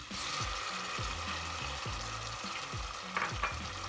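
Steady sizzling of chopped tomatoes frying in a pan, with repeated scraping strokes of a utensil stirring, close up and fairly loud.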